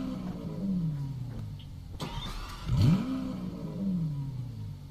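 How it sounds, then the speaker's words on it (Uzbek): A car pulls away with a rising engine note that swells to a peak midway and then settles, alongside a brief whir that may be a power window. "Mashina tortib ketdi"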